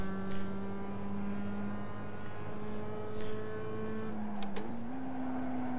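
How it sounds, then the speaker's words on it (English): A Mazda MX-5 engine on the Lime Rock circuit in iRacing holds a steady droning tone at a constant rev. Near the end it drops briefly, as if shifting, then settles at a new pitch. No one speaks. "you guys who know cars and are going to listen to the sound of the engine"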